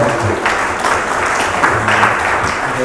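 A forum audience at an urban housing policy event applauds in a steady, dense burst of clapping that lasts throughout, with faint voices underneath.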